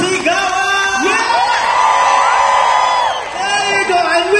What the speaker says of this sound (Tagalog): Palakpakan naman tayo dyan! Isa pa, malakas na sigawan!